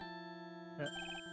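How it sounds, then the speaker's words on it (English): A mobile phone ringtone sounds up close, a short steady electronic tone broken by a brief burst of higher bright beeps, quiet and alone. "Sorry, that is my phone."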